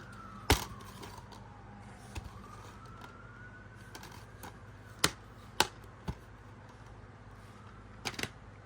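A siren wails faintly in the distance, a steady rising and falling tone running under a quiet room, broken by a few sharp clicks and taps.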